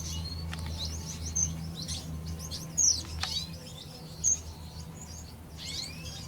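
A young red siskin gives short, high chirps and tweets inside an aviary. The calls come in scattered bursts over a steady low hum, with a few louder peeps standing out.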